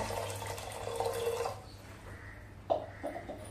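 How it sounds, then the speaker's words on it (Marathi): A bowlful of water poured into a pressure cooker holding dal, a close splashing pour for about a second and a half, then quieter handling clatter. "आता डाळ शिजण्याकरता 1 वाटी भरून पाणी घालूया."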